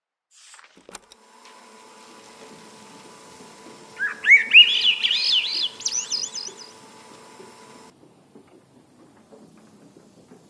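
Birds chirping in a video game setting, a bright burst of rising, warbling tweets that swells in the middle of the clip over a faint steady hum, with no one talking.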